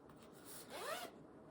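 A giant zipper pull on a leathery, sparkly vinyl project bag being zipped: one quick, close, quiet rasping pull lasting about half a second, heard alone without talk.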